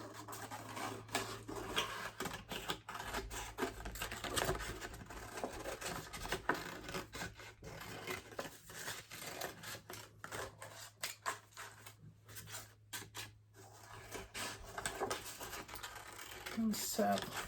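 Scissors cutting out paper shapes, with faint, irregular snips and rustles of paper repeating at close range throughout a quiet stretch.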